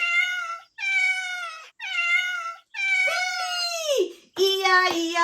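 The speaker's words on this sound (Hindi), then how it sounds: "बिल्ली, इया इया यो। म्याऊ म्याऊ यहाँ, म्याऊ म्याऊ वहां" A cat meows five times in a row, loud and close. The calls are long and tonal with short gaps between them, and the last two bend downward into a more plaintive, drawn-out wail.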